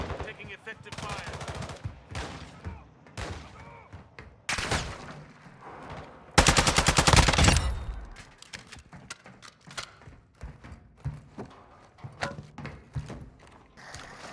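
Game gunfire from Call of Duty Warzone DMZ, with scattered shots and dense automatic bursts, peaking in a loud sustained volley midway, then trailing into sporadic nearby shots.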